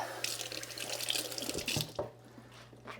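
A pet water fountain for dogs runs with a steady splashing trickle over a low electric hum, close and even, fading slightly toward the end.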